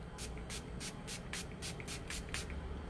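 Makeup setting spray misted onto a face in about nine quick, evenly spaced pumps, each a short close hiss.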